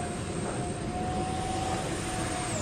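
A 3D-printed J-10 RC model jet flies circuits overhead, its engine giving a loud, continuous whine that holds steady and then bends slightly in pitch as it passes.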